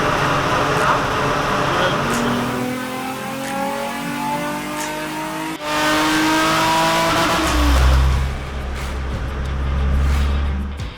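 A car engine revs at full throttle on a dyno after being run too lean, the roar loud and sustained throughout, rising then a deep low drone swelling near the end.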